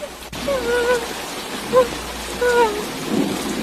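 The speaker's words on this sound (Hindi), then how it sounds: "बारिश बहुत तेज है" Heavy downpour with a steady, dense hiss of rain throughout, a loud thump near the start and faint voice-like tones drifting through; no clear speech.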